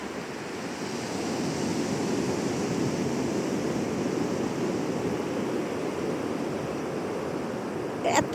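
Ocean surf washes in steadily at the water's edge on Shankarpur beach, a broad continuous roar with some wind noise over the microphone and a brief bump near the end.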